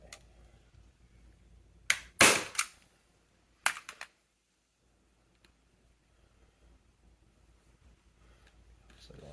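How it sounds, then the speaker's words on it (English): Staple gun fastening pieces of sofa upholstery together: a few sharp, close mechanical snaps clustered in two quick bursts, each followed by brief rattles, set against an otherwise quiet room. "Staple these pieces together."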